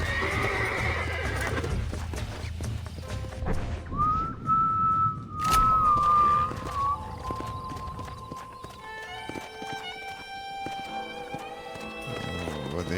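A horse in the Red Dead Redemption western video game whinnies loudly in a long, drawn-out neigh, with clip-clopping hooves and a whistle, over ambient game sound.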